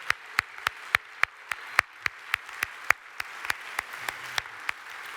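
Applause at a spring honor chapel service, heard as a slow, evenly spaced run of single sharp claps about every quarter second, distinct and fairly close, rather than a full crowd roar.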